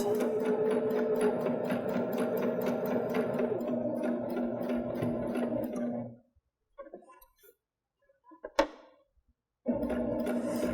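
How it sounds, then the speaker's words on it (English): A Baby Lock Jazz II sewing machine stitching across a zipper, running in a steady rapid whir for about six seconds, then stopping amid small clicks and handling noises before briefly running again. "I'm going to stitch down to, again, to that same point, and then I'm going to stitch across"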